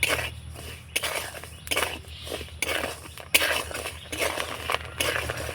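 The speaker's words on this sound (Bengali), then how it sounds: "এই দেখুন কত সুন্দরভাবে মুড়িগুলো ফুটছে" Rice grains puffing into crisp white puffed rice as they are stirred with a spatula in a pan on the stove, giving repeated bursts of crackling, rattling scrapes at a steady rhythm, close and fairly loud.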